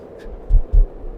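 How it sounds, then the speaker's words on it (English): Two deep, close thumps of a heartbeat, a lub-dub pair, sound clearly and alone over a low quiet hum. "Do you hear that? That's my heartbeat."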